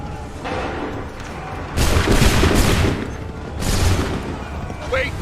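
Musket volley gunfire in Assassin's Creed 3, loud massed bursts of shots firing together in two main waves with booming reports, shouted commands and voices heard around them.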